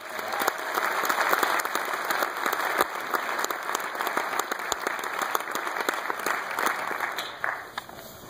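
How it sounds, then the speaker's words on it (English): Audience applause at a school Christmas concert after a band performance with trombone and clarinet: dense, steady clapping from a large crowd that carries on for the whole stretch at even loudness with no talk. "Let's give them all a big round of applause."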